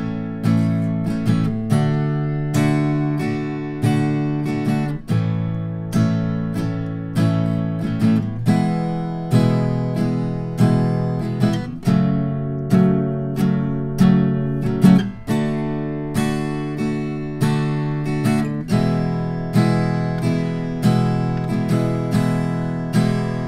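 A guitar strums the chord progression of a song, with regular strums ringing out one after another at a steady moderate tempo. The playing is loud and clear, with no voice over it.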